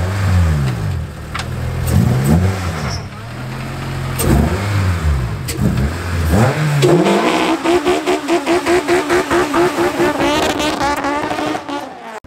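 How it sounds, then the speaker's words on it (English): A car with no brake booster pulls away and loops around, its mid-pitched engine revving and accelerating loudly through rising gear sweeps, then holding a steady pulsing drone as it passes nearby. "Carson gonna take it around for a little loop here"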